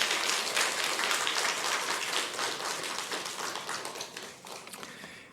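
A church congregation applauds steadily to welcome a pastor, the clapping gradually thinning and fading out over a few seconds.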